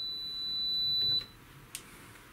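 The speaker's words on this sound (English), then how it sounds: "So we'll test the continuity tester here." A continuity tester gives one steady high beep for about a second while checking relays inside a Hameg HM8118 LCR bridge, then cuts off, followed by a faint click.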